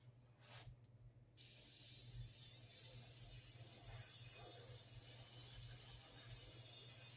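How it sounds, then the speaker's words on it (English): An airbrush sprays paint onto a homemade plastic crankbait fishing lure. After a brief quiet start with a few short puffs, a loud, steady hiss sets in and continues unbroken, close to the listener. "You want to keep your airbrush moving, so on and so forth."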